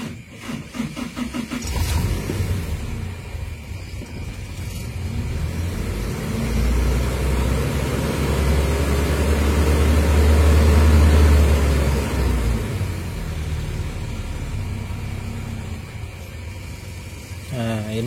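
A carbureted Toyota Kijang Grand Extra engine runs in dual-fuel mode on LPG, its steady hum swelling to a louder, rougher roar in the middle before settling back to a quieter idle.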